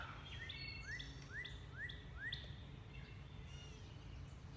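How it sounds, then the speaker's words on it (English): Several birds chirp outdoors beside a home deck, with repeated short rising calls spaced about half a second apart over a steady low background hum, moderately near and clear with no talking. "We got birds."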